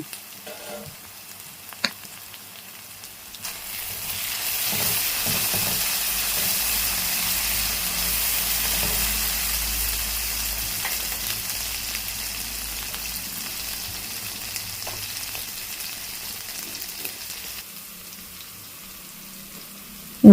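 Mushroom masala ingredients fry steadily in a pan, a broad continuous sizzle that swells after a few seconds and holds, with occasional stirring scrapes and no voices.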